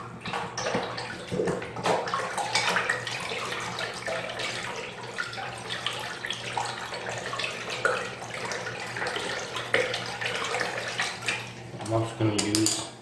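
Acrylic paint and burnt umber being stirred with water into a slurry to break up clumps while making a gothic apothecary potion prop box; wet sloshing and scraping runs continuously, with a few sharper knocks near the end.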